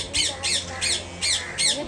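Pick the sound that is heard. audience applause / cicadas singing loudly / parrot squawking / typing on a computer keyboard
parrot squawking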